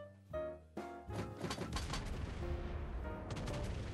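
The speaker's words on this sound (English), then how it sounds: "See what the two salvos here can do." Main gun salvos from a Spanish cruiser firing 203 mm guns in World of Warships Blitz boom in heavy, overlapping blasts that roll into a dense rumble, with game sounds continuing underneath.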